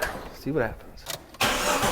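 A Jeep engine cranks and catches after a part replacement, firing up quickly and settling into a loud, high idle, with someone speaking briefly just before it starts.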